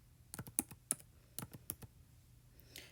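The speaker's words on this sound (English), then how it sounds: "We're just going to type in a random date." Fingers type a date on a computer keyboard, a quick run of about a dozen faint, crisp key clicks in short bursts.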